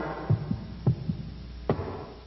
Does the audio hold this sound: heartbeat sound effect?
yes